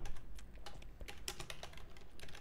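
Quick, irregular keystrokes on a computer keyboard tap out a steady run of clicks at close range, with no voices.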